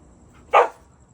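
A dog gives one short, sharp bark at moderate distance, alone in an otherwise quiet room.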